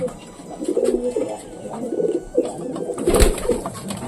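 Pet pigeons coo repeatedly in soft, rounded bursts, fairly close, with a few overlapping calls and light background noise between phrases.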